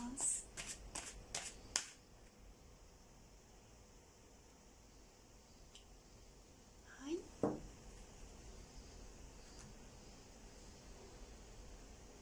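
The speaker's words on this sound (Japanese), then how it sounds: "じゃあアドバイスカードも今の段階で引いていきたいと思います" Lenormand fortune-telling cards are shuffled in quick riffling bursts at the start, then a few soft flicks and taps follow amid quiet room hiss, close and faint.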